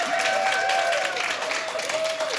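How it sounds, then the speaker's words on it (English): Audience in the House of Delegates claps for a commendation presented to the executive director of a storytelling organization, a steady wash of applause under a faint sustained tone, moderately loud and even throughout. "We can clap for that."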